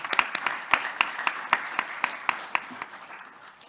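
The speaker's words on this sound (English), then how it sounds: "please join me in a round of applause for the honorable mention" An audience at an ADB annual meeting research session applauds an honorable-mention paper, with rhythmic, fairly crisp clapping from a modest crowd that slowly thins and fades toward the end.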